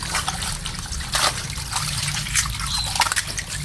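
Water poured over eggshells to rinse them trickles and splashes in a close, continuous stream with irregular sloshing bursts and drips throughout, and no talk.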